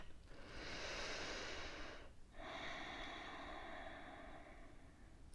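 During a forearm yoga stretch, a person takes a long, soft breath in and then a slow breath out, close and quiet, with no talking.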